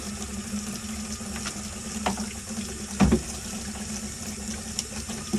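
Tap water runs steadily over a surface smeared with red extreme-pressure grease, a constant close hiss of flowing water with a few brief splashes and knocks.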